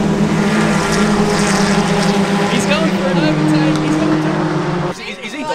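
A cheap Honda Integra race car's engine roars loud and steady on a circuit during a six-hour endurance race, holding a sustained high drone before it abruptly drops and shifts near the end.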